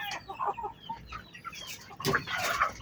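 Chicks and hens are fed in a small backyard flock that has been recovering from illness. Busy, overlapping chirps and clucks play close and fairly loud, with no talking.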